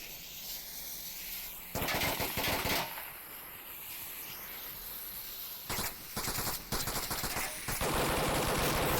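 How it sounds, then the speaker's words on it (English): In the Onward VR shooter, a light machine gun fires loud, sustained bursts: one long volley, a pause of distant rumbling, then several more heavy rattling streams close by. "Heavy LMG fire, stopping that rotation"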